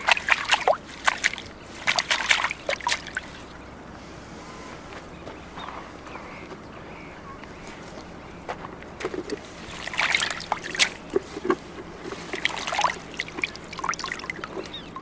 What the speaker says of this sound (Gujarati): ઉપરથી જો તાજું પાણી નાખીને આવી રીતે ધોઈ લેશું, જેથી એમાં કોઈ ગંદકી ન રહે